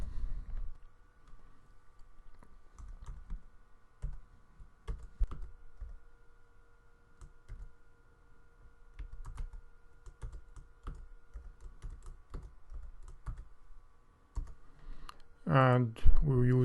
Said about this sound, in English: Bear with me as I type it in.